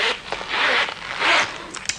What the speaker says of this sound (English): the writing folder, what it is literally a zipped folder